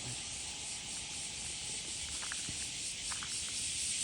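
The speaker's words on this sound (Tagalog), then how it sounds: "Pakinggan nyo naman po ang nakakalibang na kuliglig" A dense, steady high-pitched buzz of crickets fills the air, with a few faint scattered chirps over low background noise.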